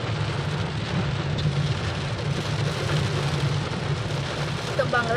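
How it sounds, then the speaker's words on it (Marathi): Heavy rain pours down in a dense, steady roar that stays constant and loud throughout, with a faint low rumble underneath. "पाऊस किती जोरात आलाय."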